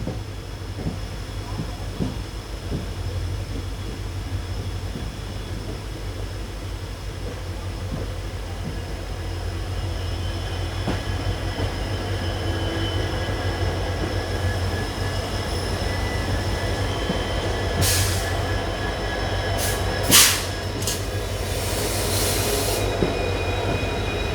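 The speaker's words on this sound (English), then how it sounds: "Those are the most powerful diesel locomotives in India currently." A train hauled by diesel locomotives rolls along rails in India, with a steady rumble and a clatter of wheels throughout. High squeals and hisses break in near the end, and no one talks.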